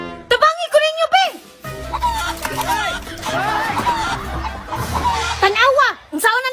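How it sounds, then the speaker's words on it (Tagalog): An escaped chicken clucks and squawks nearby amid excited shouting and laughter from several people trying to catch it. "Ang manok ate Axel nakabuhi!"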